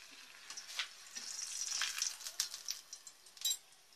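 A Dhaka-style taki puri fries in hot oil until brown, giving a close, bubbling sizzle that swells and fades in bursts, with light scraping from the pan and no talking.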